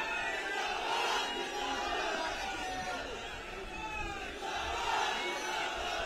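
A large political rally crowd in Kanpur shouting slogans together in response to a speaker, a dense roar of many voices that swells and dips across the whole stretch.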